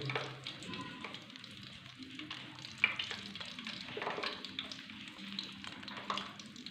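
Gulab jamun dough balls fry gently in hot ghee in a kadai, giving a faint, steady bubbling sizzle with occasional soft taps of a spoon against the pan.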